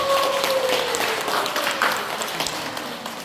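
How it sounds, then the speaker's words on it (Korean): An audience at a Buddha's Birthday gathering applauds, with a brief wash of clapping that slowly fades while a voice speaks faintly over it. "되도록 박수."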